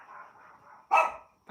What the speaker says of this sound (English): excited puppies.